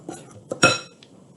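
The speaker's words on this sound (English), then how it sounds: "Try to be gentle when you stir, so hopefully your shaving cream will stay fluffy." Shaving cream being stirred into a slime mixture with a utensil, heard as a few light clinks and taps against the bowl, the loudest about halfway through, with no one speaking.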